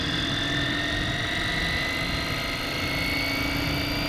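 A miniature scale Bell 206 RC helicopter idles steadily, its motor and rotor giving a continuous even whine and whir with a faint tonal hum, close by and unbroken throughout.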